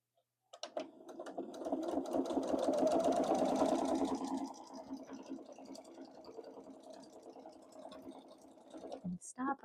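Sewing machine stitching binding onto a quilt, a steady motor whir running through most of the clip, louder early and easing later, with a voice talking faintly over it.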